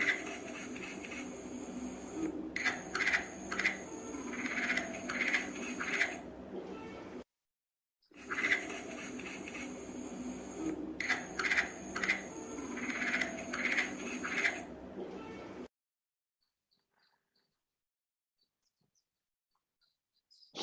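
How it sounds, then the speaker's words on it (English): A green pond frog calls in two repeated bursts of rapid, chirping bleat-like notes over a steady background hum, followed by silence. "Green pond frog."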